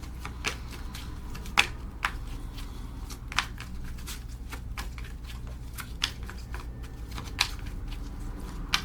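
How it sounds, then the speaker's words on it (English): Tarot cards are shuffled close by, a steady papery riffle broken by sharp snapping clicks at irregular intervals, with no talking. "We're gonna keep shuffling for a moment."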